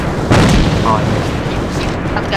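A grenade explodes in the shooter game AVA with one deep, close boom, followed by a rumbling tail and background game noise.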